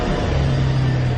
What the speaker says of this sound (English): cold start with the twin turbo V12, which is extremely muffled